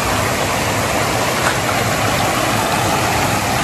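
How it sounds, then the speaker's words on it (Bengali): Water rushing steadily over a small dam at Sursuri waterfall near Jamshedpur, a loud, continuous broadband roar with no breaks, close by and with no voices. "দেখো ভাই চেক করো, এইখান থেকে জলটা যাচ্ছে। এখানে ছোট করে ড্যাম করা আছে"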